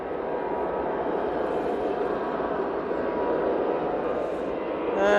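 Airliner jet engines spool up at Manchester Airport as the plane turns onto the runway at an intersection, a steady broadband roar that holds loud and even throughout, swelling slightly at the end.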